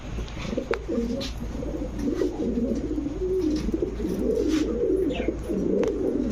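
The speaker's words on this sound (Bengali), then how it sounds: "এই যে দেখেন কবুতরটা" Pigeons, including fancy breeds such as Teddy, Budapest, Lahori and Danish, coo continuously in low, throaty, rolling calls, close by and fairly loud, with a faint rustle behind them.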